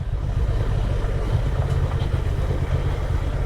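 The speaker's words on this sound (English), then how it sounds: "just letting it coast down, engine braking." A Honda Transalp adventure motorcycle coasts downhill on a wet green lane under engine braking, giving a steady low rumbling drone with constant wind and road noise and no speech.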